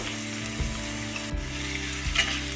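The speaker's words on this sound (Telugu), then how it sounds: "గ్యాస్ మీద ప్యాన్ పెట్టుకొని కొంచెం ఆయిల్ వేసుకోవాలి జీలకర్ర పెద్ద సైజు రెండు ఆనియన్ పచ్చిమిర్చి వెల్లుల్లి రెప్పలు" Onions, green chillies, garlic and cumin frying in oil in a pan on a gas stove, a constant close sizzle with a few low knocks and scrapes from stirring, no voices.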